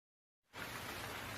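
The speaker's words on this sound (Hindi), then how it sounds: "पूरी रात बारिश होती रही।" Steady rain falling as a sound effect in a Hindi story, a dense even hiss of drops that starts abruptly after a short silence and holds loud and constant to the end.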